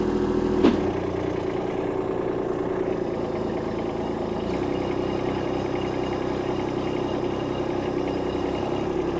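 A stuck tractor's engine runs steadily under load while its tires spin, a continuous, close, rumbling drone with a single sharp clank near the start.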